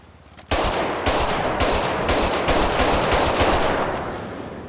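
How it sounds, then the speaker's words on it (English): A combat pistol from a FiveM game sound pack fires a rapid string of sharp shots that begins abruptly after a brief quiet and keeps up a quick, steady rhythm to the end. "So here's the pistol. The combat pistol."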